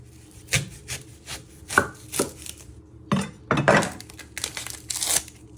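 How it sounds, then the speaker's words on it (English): A knife chopping the end off an onion on a board, a series of crisp, close cuts with papery crackling of the skin, irregularly spaced over several seconds. "You're first going to chop your end off."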